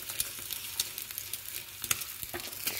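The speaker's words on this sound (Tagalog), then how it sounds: "prito tayo ng itlog" Eggs seasoned with salt and pepper fry in a pan with a continuous crackling sizzle, broken by a few soft scrapes and taps, close and steady, no voices.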